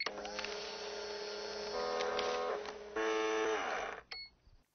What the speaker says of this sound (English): the biggest thing they got wrong for me was the fax machine